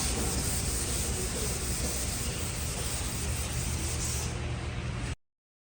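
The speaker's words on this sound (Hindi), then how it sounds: "और यहाँ पूरी डिक्की में हम 600 नंबर का पेपर घिस डालेंगे।" Steady dry scratching of 600-grit paper rubbed by hand across the boot of a Ford Endeavour under restoration, a continuous close, even abrasive hiss that cuts off abruptly near the end.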